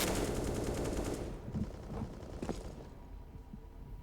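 M4 rifle gunfire in CS:GO during a professional match on the Overpass map, a rapid burst of shots that cuts off after about a second, followed by scattered faint footsteps and clicks.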